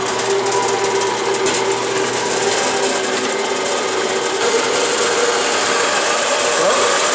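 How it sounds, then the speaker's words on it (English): A bandsaw cuts through metal bar stock with a steady, loud, high whine and grinding rasp that runs unbroken from start to finish. "This is a bandsaw, and it's the fast and precise way to do it"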